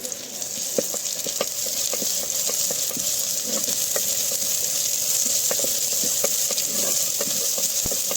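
Ginger-garlic paste and onion fry in a clay pot for an egg and potato curry, a steady close sizzle with faint stirring scrapes and small pops running continuously, no talking.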